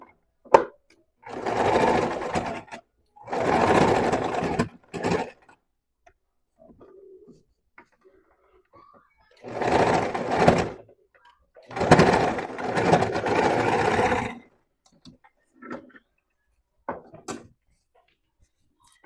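A sewing machine stitches a seam and then backstitches on a ruffle, running in four loud bursts of rapid mechanical stitching separated by quiet pauses with faint handling clicks.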